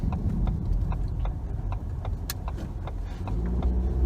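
Inside a car while riding: a steady low road and engine rumble fills the cabin, with light regular ticking clicks on top and no talking.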